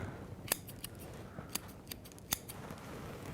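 Large shears trim the foliage of a maple bonsai in a series of crisp, sharp snips, six or so spaced irregularly over a quiet background.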